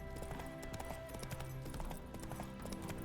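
Horse hooves clip-clop at a steady walking rhythm in The Witcher 3: Heart of Stone, a brisk run of close, distinct hoofbeats over a dense bed of game sound, with no speech.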